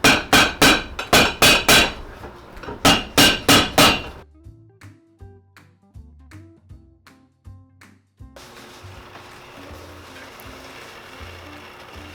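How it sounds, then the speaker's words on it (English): A hammer taps on the welt of a Tod's leather loafer during a shoe restoration, two quick runs of sharp, loud, evenly spaced knocks, then softer scattered workshop clicks and a low hum. "tap it around with a hammer"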